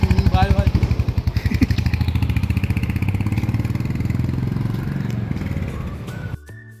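A new motorbike engine runs close by with a steady, pulsing throb that slowly fades before cutting off near the end, with voices over it.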